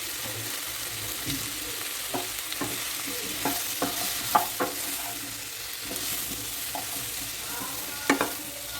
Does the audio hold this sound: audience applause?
no